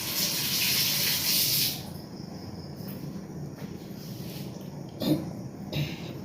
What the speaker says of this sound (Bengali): দাঁড়াও আমি হাতটা একটু ধুয়ে নিই।